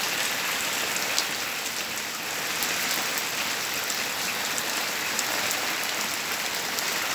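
Heavy rain pours down in a highland village, a dense, unbroken hiss of drops striking surfaces, loud and steady throughout with no voices.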